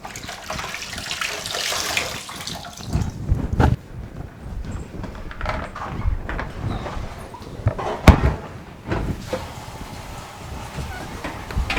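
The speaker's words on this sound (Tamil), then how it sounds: "இந்த துணி வந்து நல்லா இதில் அலசிக்கலாம் தண்ணியில்." A cloth rinsed under a running kitchen tap, with irregular splashing and swishing bursts that rise and fall as the fabric moves through the stream, close and moderately loud.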